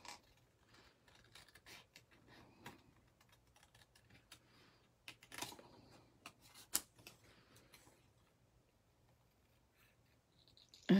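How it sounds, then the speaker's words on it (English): Scissors fussy cutting around a paper bird shape at a craft table, giving quiet, close, irregular snips and light paper rustles, with a louder clatter at the very end and no talking. "Now let's fussy cut this thing."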